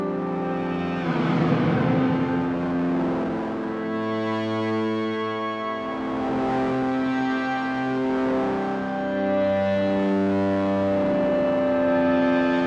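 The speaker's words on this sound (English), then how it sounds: "Switching up reverb types to a metallic." Metallic-toned reverb from a Champion Leccy Kilter V2 pedal washing over sustained tonal notes, loud and continuous with long ringing tails and no voices.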